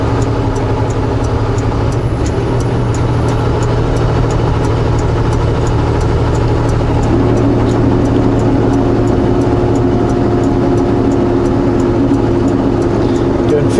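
A semi truck engine labours up a steep highway climb as the throttle opens. It gives a loud, continuous low diesel drone with a steady rumble that thickens partway through.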